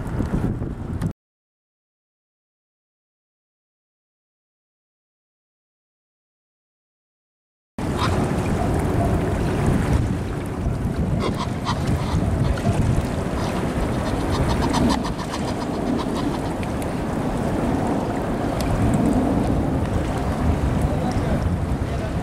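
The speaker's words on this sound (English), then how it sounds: "it's a windy and wet morning on the Thames foreshore" Gusty wind buffets the microphone with a steady broadband roar, punctuated by a brief dropout, while rain and lapping water hiss underneath near the shore of the River Thames foreshore.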